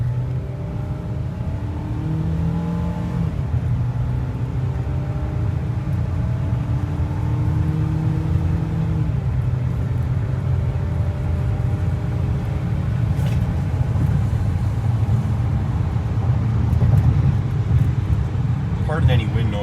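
A 2022 Ford Maverick pickup engine rising in pitch as it accelerates under load while towing a boat, steady and close, with a continuous low drone and wind rush through an open back window.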